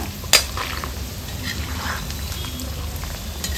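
Bitter gourd chips fry in hot oil. A steady, soft sizzling hiss continues throughout, with one brief clatter of a utensil against the pan near the start and no talking.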